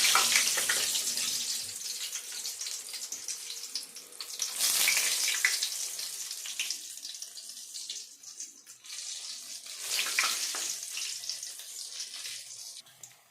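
Potato tikkis (aloo cutlets) frying in oil in a kadhai give a steady, bright sizzle that swells loudly as they go in, eases, and surges again in later waves, with no voices.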